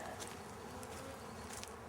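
Honey bees inside a small queen cage hum in a steady, soft drone, faint and close, with no voices.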